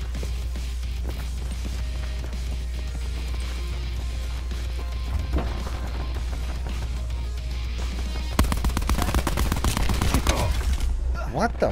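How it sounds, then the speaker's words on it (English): Gunfire in a jungle-village video game, a steady low rumble with bursts of rapid shots growing louder and denser toward the end. "I was shooting the fuck out of him, he didn't die."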